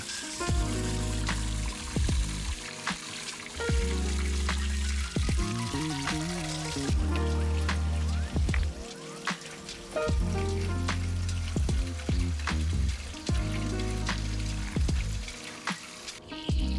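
Water gushes out of a homemade garbage-can rain catcher beside a greenhouse and garden, a steady pouring rush that continues throughout with music playing over it.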